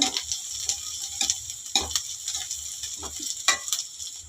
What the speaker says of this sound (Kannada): ಇನ್ನೊಂಚೂರು ರೋಸ್ಟ್ ಆಗಲಿ ಈರುಳ್ಳಿ ಚೆನ್ನಾಗಿ ರೋಸ್ಟ್ ಆದರೆ ಚೆನ್ನಾಗಿರ್ತೈತೆ